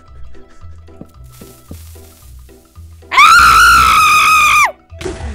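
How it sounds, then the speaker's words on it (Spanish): A Minecraft player lets out one loud, sustained scream lasting about a second and a half, after muffled thumps and background game sounds. "¿Eso ha sido un grito varonil o qué ha sido eso, tío?"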